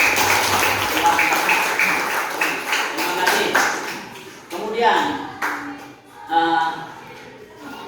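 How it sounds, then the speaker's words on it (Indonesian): A class claps hands together during an Islamic religious education lesson, a brief patter of sharp claps at the start before a teacher's voice takes over and talks on over scattered taps. "Iya, tepuk tangan."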